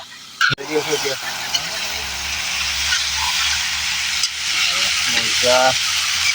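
Meat fries in a pan, a steady sizzle with occasional scraping stirs and a couple of clanks near the start, while voices speak briefly over it.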